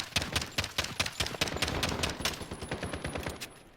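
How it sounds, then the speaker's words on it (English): Rapid automatic gunfire from a Spetsnaz-kitted weapon in Call of Duty Modern Warfare, a fast unbroken burst of evenly spaced sharp shots lasting the whole stretch, loud and close. "this is me just rapidly firing"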